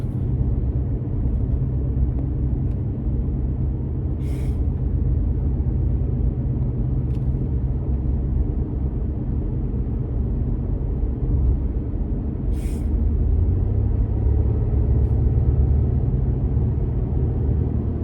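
A facelifted Mercedes W213 E-Class accelerates, heard from inside the cabin as a steady, fairly loud low engine and road rumble that swells slightly late on, with a couple of faint high clicks; nobody speaks.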